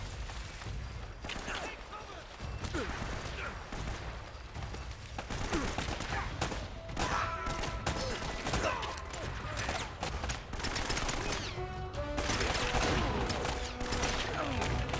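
Shotgun fire in Uncharted: Drake's Fortune, repeated heavy blasts spaced through a busy gunfight with clanks and other gunfire, under ongoing game sounds.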